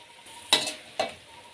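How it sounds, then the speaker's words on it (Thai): Shrimp and cauliflower are stir-fried in a pan, with two quick spatula scrapes and tosses over a faint sizzle, close and sharp, and no voices. "ผัดไปอีกหน่อยให้พอกุ้งเกือบสุก"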